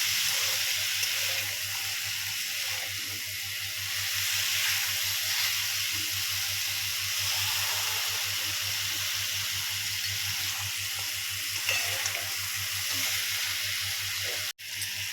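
Ridge gourd pieces cooking down in a pan for chutney give a steady, continuous sizzle that stays at an even level throughout, with no talking.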